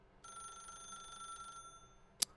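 One bright electronic telephone ring from The Stanley Parable, about a second long and fairly clear, is followed shortly by a sharp click.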